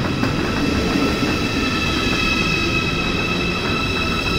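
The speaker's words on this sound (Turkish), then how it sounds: "Dostlar tren geldi." A Deutsche Bahn ICE train pulls into a station with a steady, loud rumble and rolling wheel noise, high brake whines holding above it throughout.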